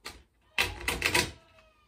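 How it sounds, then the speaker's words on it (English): A deck of playing cards is shuffled during a magic trick segment, giving a brief burst of quick riffling flutter after a short rustle, then trailing off; no talk over it. "let me just try. I'm in the back over here so so you can actually see me making an an attempt. Ugh, an attempt to shuffle."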